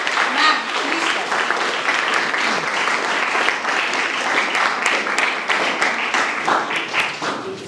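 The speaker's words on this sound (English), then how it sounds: "give a huge round of applause for Alka ma'am" A school audience gives a loud, sustained round of applause at a science quiz competition, dense clapping filling the room steadily from start to finish.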